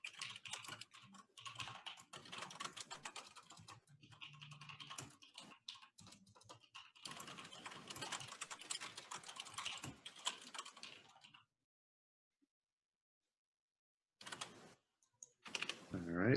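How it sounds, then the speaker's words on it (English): Two players type answers on computer keyboards in a rapid, steady stream of close, soft key clicks that stops for a few seconds and then resumes in short bursts, with some talk faintly underneath. "I hear a lot of typing, which is good."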